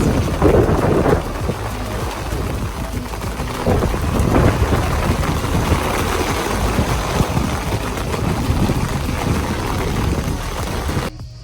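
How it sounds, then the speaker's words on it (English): Steady heavy rain pours down continuously, a dense broadband wash with no voices, cutting off abruptly at the very end. "And the rain stopped after 5 minutes."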